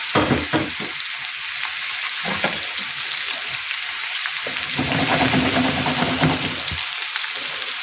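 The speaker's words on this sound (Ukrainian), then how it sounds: "так, щоб цибуля пішла туди на низ і щоб обсмажилася." Onion fries in a pan of oil beside young potatoes, making a loud, dense crackling sizzle throughout with occasional stirring scrapes, close up and without speech.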